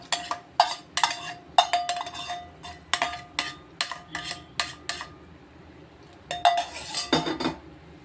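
A spoon stirs sweet pongal with roasted cashews and dried raisins in a metal pot, giving a run of sharp, close clinks and scrapes in quick bursts, a short pause, then a faster clatter of stirring.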